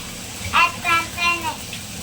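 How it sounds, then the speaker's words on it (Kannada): Water runs steadily from a tap while dishes are washed at home, a constant soft gush under a voice speaking in short bursts. "ಪಾತ್ರೆನ ತೊಳಿತಿದ್ದಾರೆ"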